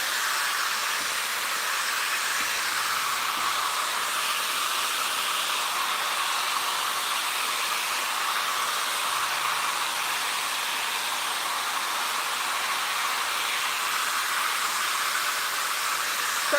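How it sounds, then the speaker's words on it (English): Hair dryer fitted with a diffuser blowing on curly hair, a steady broad airy hiss held evenly and close throughout, with no talking. "So I'm really just hover diffusing this front section"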